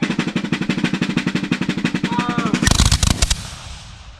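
A ragged volley of black-powder muskets fired by a reenactor line at the Fort de Chartres rendezvous: rapid overlapping loud reports close by, ringing out over a continuous rattling burst before fading.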